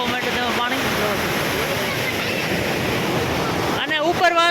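Water rushes loudly and steadily through the open gates of the overflowing Shetrunji dam near Palitana after the first rains, a constant broadband roar close by, with faint voices and whistling-like tones near the end.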